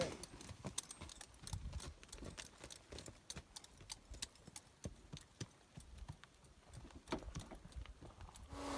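A rancher's horse walks along, its hooves clip-clopping in a steady, uneven rhythm of sharp, fairly faint hits against a quiet outdoor background.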